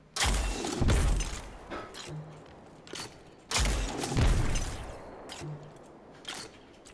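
Fighting Lion grenade launcher fired in Destiny 2: two loud, sharp launch blasts about three seconds apart, each followed by a thudding detonation and a rumbling, debris-filled tail.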